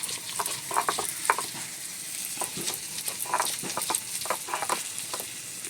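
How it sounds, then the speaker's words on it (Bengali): Onions sizzling and frying in a pan while being stirred, with a steady crackling hiss and irregular scraping clicks of the utensil throughout, no voices. "পেঁয়াজগুলো একটু নেড়ে চেড়ে ভেজে নেবো"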